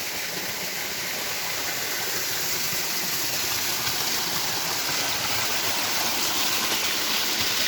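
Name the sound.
stream water flowing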